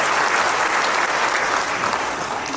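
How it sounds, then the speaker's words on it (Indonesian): Enthusiastic applause from an audience at a formal event celebrating an unqualified audit opinion, a dense, steady clapping that fills the whole stretch without let-up and with no voices over it. "Tepuk tangan yang meriah buat WTP kita."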